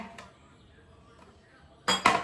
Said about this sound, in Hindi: दिन के बर्तन, तो मैं पहले इन्हें सेट कर देती हूँ